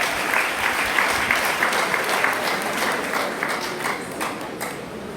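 A church congregation applauds, a dense, even wash of many hands clapping together for several seconds before tapering slightly at the end.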